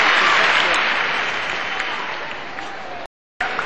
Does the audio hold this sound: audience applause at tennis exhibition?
yes